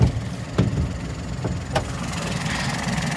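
A 1.2-litre three-cylinder car engine idles steadily up close, a low continuous hum with a few faint clicks and knocks.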